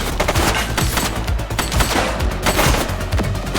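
Sustained rapid gunfire in the police video game The Precinct, dense overlapping bursts of shots filling the whole stretch at steady loud volume, with no speech heard.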